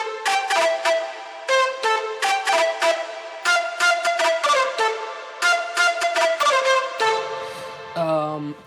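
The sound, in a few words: Irish flute sound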